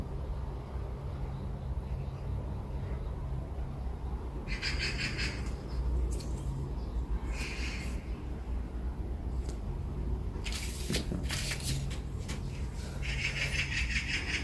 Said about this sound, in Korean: 아침부터 까치가 저렇게 깍깍거리고 날아다니고 있습니다